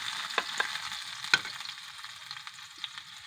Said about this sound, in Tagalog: lulutuin natin tong sibuyas bombay